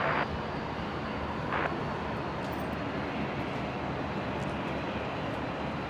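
A Dash 8 aircraft taking off from runway 19 left at Brisbane Airport, a steady broadband engine roar that holds constant throughout, moderately loud and without voices.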